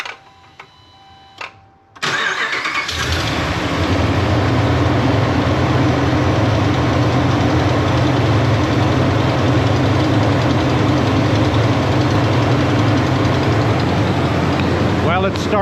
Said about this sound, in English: Nothing left to do now but start it up and see what happens.